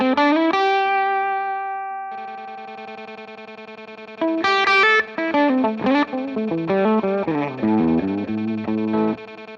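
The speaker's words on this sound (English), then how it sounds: "decide the balance of how loud or soft I want this little stutter effect I just put together was" A Ratchet guitar effects unit with firmware 3.15 chops a sustained distorted guitar into a rapid stutter of evenly pulsed repeats while more notes are played over the top, loud and alone.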